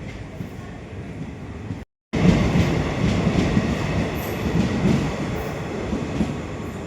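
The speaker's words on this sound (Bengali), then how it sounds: "ট্রেন যাচ্ছে" A train rolls through a railway station at night, a loud, close, continuous rumble of wheels and cars with rattling clatter that carries on steadily throughout.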